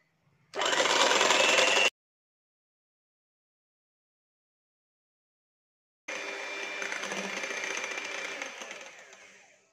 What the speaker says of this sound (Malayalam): ആദ്യം നമുക്കിതൊന്ന് വിപ്പ് ചെയ്തെടുക്കാം